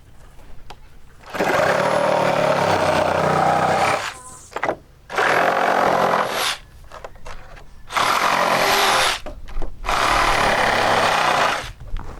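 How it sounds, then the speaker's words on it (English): A power tool cuts along the edge of a wooden gate in four loud, sustained bursts of about two seconds each, separated by short pauses, close by and with no talk over it. "Next, we're gonna cut as straight as we can along this edge,"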